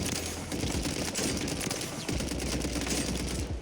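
Rapid automatic rifle fire from a Warzone gun fitted with a Jack BFB barrel: dense, continuous bursts of loud shots cracking close with little pause.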